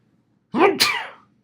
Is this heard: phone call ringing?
no